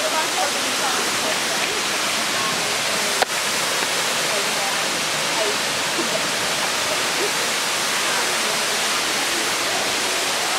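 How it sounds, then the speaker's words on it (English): A freshwater waterfall in outback northern Australia roars steadily and loudly throughout, a dense unbroken rush of falling water with one brief click partway through. "It's a freshwater waterfall, not salty"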